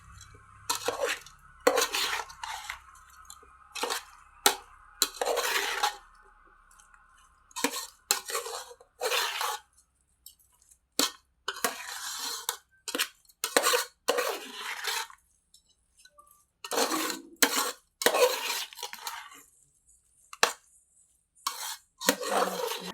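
Veg manchurian being mixed in a pan with spring onion greens, a series of irregular spoon clinks and scrapes against the pan with quiet gaps between, close and fairly soft.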